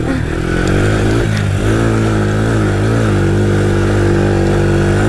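An ATV engine revs hard and steady on a muddy trail ride, its loud droning note rising and falling close by with a brief scrape near the start and no talking.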